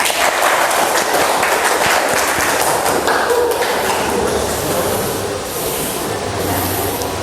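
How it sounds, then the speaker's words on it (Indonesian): Steady, dense applause from a crowd, sustained loud clapping with a busy texture that continues for several seconds. "Beri tepuk tangan untuk Diga"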